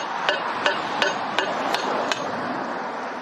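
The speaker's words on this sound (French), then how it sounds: "puis je l'ai frappé avec un marteau" A hammer strikes a paving slab, partly cut halfway through, to break it: six sharp, evenly spaced knocks sound in steady rhythm over a hissing background, then the blows stop.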